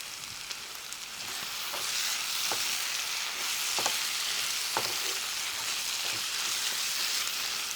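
Curry leaves sizzle and fry steadily in hot oil in a pan while chicken liver is cooked, with a dense continuous crackle, occasional sharper pops and light stirring, close and fairly loud, with no talking.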